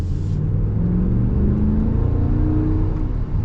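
The non-eTorque 5.7 Hemi V8 in a 2024 Ram 1500 Classic revs up with a rising mid-pitched roar, loud and close, in one continuous climb.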